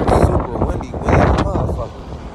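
Strong wind buffets the microphone in loud, rumbling gusts, with a voice talking over the roar.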